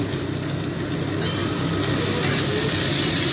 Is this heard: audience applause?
no